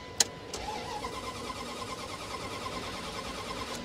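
A used car at a police impound auction cranks without starting, a steady fast whirring churn from the starter and engine with a couple of sharp clicks near the start and end.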